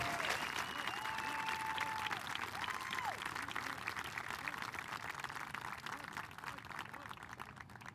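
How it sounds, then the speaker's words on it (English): Crowd applause at an outdoor Veterans Day parade for a drill team at a military academy, steady and dense throughout, with faint whistles and cheers on top and slowly easing toward the end. "Let's give another round of applause for the Davis Guard Drill Team."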